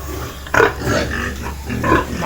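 Pigs grunt in a pen, with several short, close grunts and snorts over a steady low background hum, and no voices.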